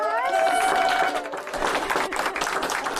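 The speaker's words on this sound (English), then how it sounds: "Round of applause." A burst of clapping and cheering from a crowd at an awards dinner, steady and broadband throughout, with some voices rising over the applause at the start.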